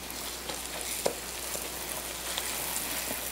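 A boxty potato pancake fries in butter, a quiet, steady sizzle with faint crackles and occasional small pops throughout.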